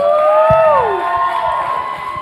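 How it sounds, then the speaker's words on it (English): A crowd at a poetry finale cheers loudly, with rising and falling whoops from several voices carrying over a steady wash of audience noise. "So give them a round of applause, please."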